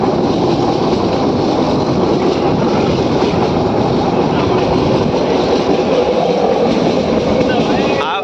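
Train rolling through forest and farmland between Gir Gadhada and Sasan Gir, a steady dense rumble and rattle of wheels and carriages, continuous and close, with faint talk beneath.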